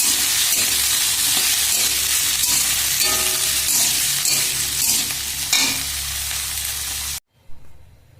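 Chopped carrots frying for fried rice make a loud, close, continuous sizzle with stirring, then the sound cuts off abruptly near the end, followed by a brief clatter.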